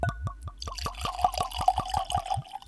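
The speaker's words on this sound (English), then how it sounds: "There is nothing better than a fresh crack pour. That first glug." Irish whiskey poured from a freshly opened bottle, a close run of quick glugs and drips that speeds into a steady gurgle of liquid, loud and alone.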